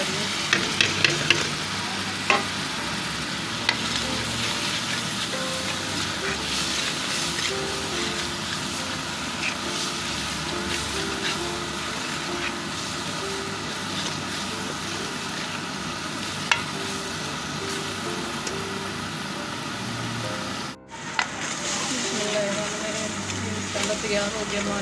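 Goat intestine curry spices sizzle steadily in a frying pan while being stirred, a continuous loud frying hiss with scraping stir strokes throughout and a brief pause near the end.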